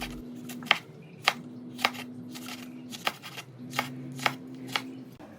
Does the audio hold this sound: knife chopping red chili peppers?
yes